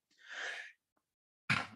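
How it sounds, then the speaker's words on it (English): A single sharp sneeze bursts out near the end after a breathy intake, close and fairly loud, with no talking around it. "every time I'm on camera, I usually have to sneeze"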